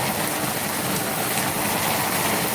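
Heavy rain with large drops pours down steadily on a farm, a dense, loud, unbroken hiss filling the whole stretch with no voices.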